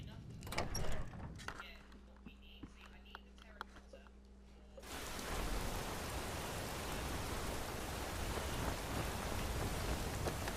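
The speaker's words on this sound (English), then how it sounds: "It's raining outside." Steady heavy rain falls in the video game Skyrim VR, starting abruptly as a dense, loud wash of hiss that continues unbroken, after a quieter stretch of ambience with a low hum and faint clicks.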